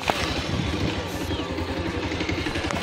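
Motorcycle engine running close by at a low, steady throttle while the clutch is eased out to pull away, someone talking over the continuous rumble.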